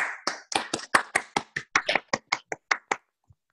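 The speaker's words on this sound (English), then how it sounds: "I'd like to thank our speakers, Lewis Fox and Howard Blumenthal, for excellent, extraordinary presentation today with a round of applause" Short scattered claps from a few attendees applauding the speakers on a video call, about fifteen sharp separate bursts over a few seconds, thinning out toward the end.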